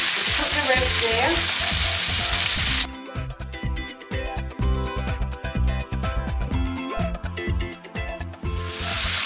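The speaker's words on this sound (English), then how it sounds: "So we'll just let that brown up. We don't want to cook it, we're just browning off the edges." Beef rolls sizzle and fry loudly in a hot pan as their edges brown, a steady hiss at first, then a crackling, spattering sizzle broken by stirring and shifting.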